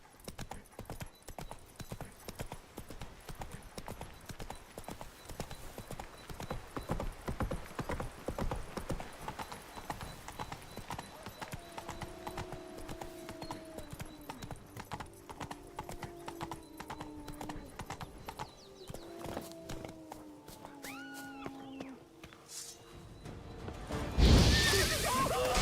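Roach the horse from The Witcher 3 gallops with rapid, continuous hoofbeats that hold steady for most of the stretch, joined by a few whinnies midway and a sudden loud crash near the end.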